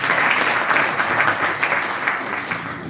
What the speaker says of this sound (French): Sous vos applaudissements pour M.